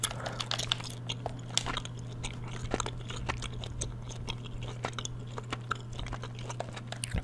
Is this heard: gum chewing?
yes